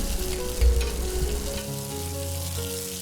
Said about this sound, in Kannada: ಇದನ್ನು ಇವಾಗ ಈರುಳ್ಳಿ ಚೆನ್ನಾಗಿ ಟ್ರಾನ್ಸ್ಪರೆಂಟ್ ಆಗುವವರೆಗೂ ಬಾಡಿಸ್ಕೊಳ್ಳಿ